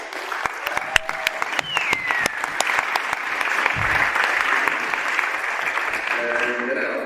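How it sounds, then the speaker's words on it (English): Audience at a council general assembly applauding presenters: sharp individual claps at first, quickly swelling into sustained, fairly loud clapping from a large hall, with faint voices underneath. "So, applause for the presenters."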